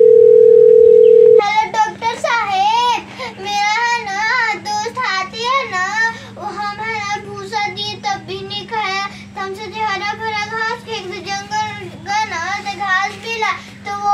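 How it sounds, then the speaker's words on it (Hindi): A steady telephone dial tone holds for just over a second as a doctor is being called, then cuts off and a voice takes over, chattering continuously to the end. "चलो नंबर डायल करो"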